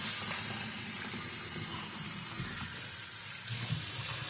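Cool tap water runs steadily into a kitchen sink as collard greens are rinsed, a continuous even splashing hiss heard up close with no talking.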